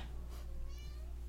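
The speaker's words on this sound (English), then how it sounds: "furry little feline companion, Mikasa" A pet cat named Mikasa gives a faint meow or two over steady low hum, with no talking.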